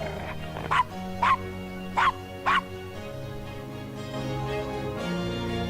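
Dog barking in the Gabriel Knight: Sins of the Fathers 20th anniversary remake: four short, sharp barks spaced about half a second apart over a steady game music bed, with no talk.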